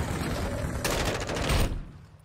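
Rapid overlapping gunfire from several players in a video game, a dense burst of shots lasting about a second over a steady background, then cutting off.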